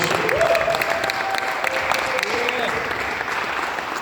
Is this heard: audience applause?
yes